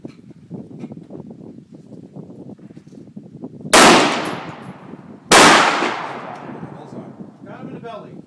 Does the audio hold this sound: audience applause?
no